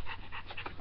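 An excited dog pants in quick, close, breathy bursts, about five rapid huffs in under a second, with no talking.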